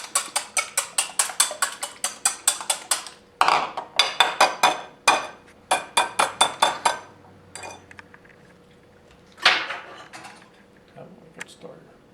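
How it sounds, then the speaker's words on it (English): A utensil stirs eggs in a pan, giving a rapid run of sharp metallic clinks and scrapes that come in bursts with pauses in between. "And then I'm going to stir this again."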